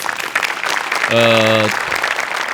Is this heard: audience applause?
yes